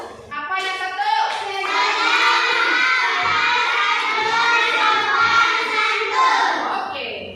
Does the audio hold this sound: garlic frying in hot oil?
no